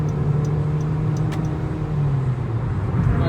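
2015 Honda Civic EX-L sedan cruising on the highway, a steady hum of engine and road noise from inside the cabin, with faint brief clicks and no talk.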